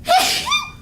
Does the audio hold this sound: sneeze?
yes